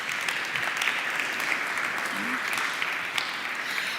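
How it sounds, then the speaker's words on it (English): Sustained applause from a conference audience at an international event on ten years of the euro, steady and dense throughout the four seconds, with a faint voice briefly audible underneath. "Give a round of applause on stage."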